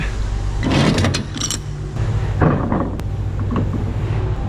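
Back doors of a lorry trailer being unlatched and swung open, a few metallic clanks and rattles over a steady low diesel idle, close by with no talk.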